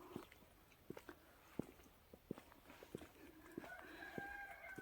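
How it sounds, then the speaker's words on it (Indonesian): Roosters crow faintly in the distance in a Romanian village, heard under a general outdoor hum with scattered sharp nearby clicks and thuds. "Tuh bisa didengar suara-suara ayam berkokok ya."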